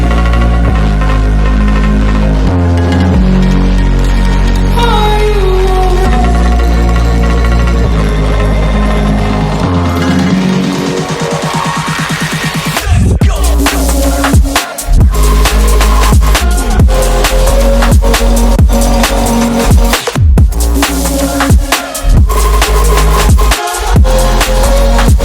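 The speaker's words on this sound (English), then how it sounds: "Essentially got the breakdown with just vocal and a string going into this like V-space break" Electronic dance remix building over rising tones and a quickening stutter, then dropping into loud, punchy pumping beats with sharp gaps and heavy low end.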